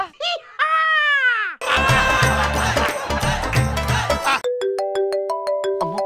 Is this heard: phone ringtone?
yes